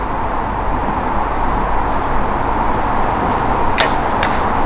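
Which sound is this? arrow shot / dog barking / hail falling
arrow shot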